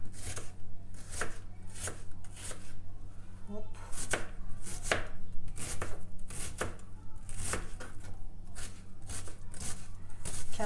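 A chef's knife chops food steadily on a board, a long series of crisp strikes at a brisk, fairly even pace, close up over a faint background hum.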